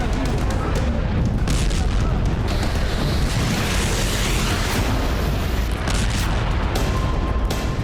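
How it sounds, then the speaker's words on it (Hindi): Dense, rumbling booms of missile explosions roll together continuously, loud and chaotic, with faint voices mixed beneath. "मिसाइलों के धमाके में खंडर बनते शहर के शहर।"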